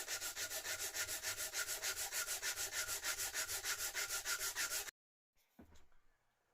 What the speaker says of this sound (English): I've sanded the edges down all around